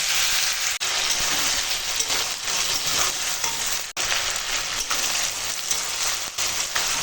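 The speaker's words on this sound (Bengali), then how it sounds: "এই তেলপাতার সঙ্গে অনেকটা সময় কষাচ্ছি আনাজটা" Vegetables and flowers stir-frying in oil with tender greens, a loud continuous sizzle and crackle close by, with a few brief dropouts and steady scraping as the mixture is tossed.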